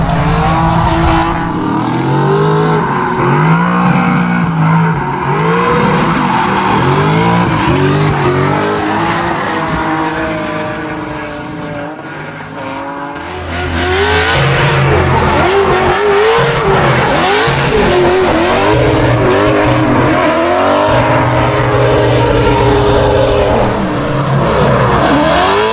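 A drift car at a street drifting event in Šiauliai revs hard in loud, surging bursts while its tires squeal. The engine dips in the middle before roaring again at full throttle.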